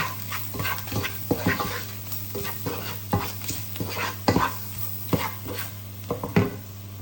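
Chicken saluna ingredients are stirred in a sizzling pan, with frequent scraping and clattering strokes of a spoon against the metal over a steady frying hiss, close and fairly loud, with no speech.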